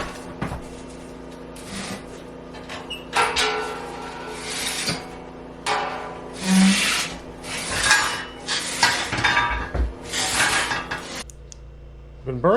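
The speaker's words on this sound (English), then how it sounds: "Time to clean the old wood stove." Someone scrapes, rasps and clanks metal tools while cleaning out an old wood stove in an off-grid tiny cabin, irregular bursts of scraping with dull knocks, close and fairly loud, no talk.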